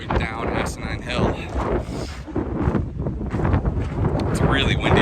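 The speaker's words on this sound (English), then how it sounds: "It's really windy right now." Strong gusting wind buffets the microphone on a hill trail descending Asinine Hill, a loud continuous roar with surges throughout.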